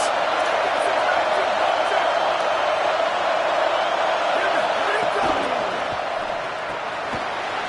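Crowd at a college football game roars steadily through a third-down defensive stand, a dense wash of cheering with scattered shouts and a faint commentator voice beneath, easing slightly near the end.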